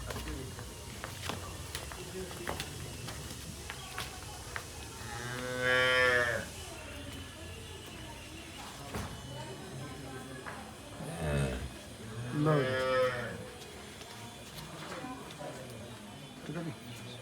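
A cow, a black cow with white spots that has just calved, moos twice, long and low, nearby, with people talking before and between the calls.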